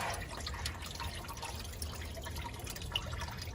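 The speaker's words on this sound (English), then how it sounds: "Looks like it's leaking a bit. I'll let it dribble before I pull it out." Coolant dribbles from an MGB's cooling system, a close, irregular patter of drips and trickling liquid falling into a container below, steady throughout with no talking.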